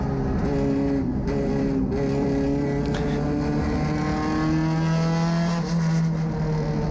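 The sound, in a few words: mini stock race car revving past on track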